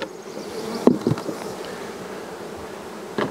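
Honey bees buzz around a single-story hive, a steady, close droning hum with a few sharp knocks or taps near the start and again at the end.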